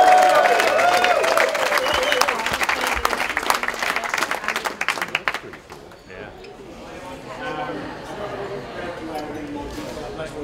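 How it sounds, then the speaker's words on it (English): A street crowd at the Gumball 3000 rally start in New York City cheers and applauds loudly for a Gumball car's first Indianapolis 500 entry, whoops riding over the clapping before it thins out and fades into quieter background murmur. "come on, that deserves a cheer."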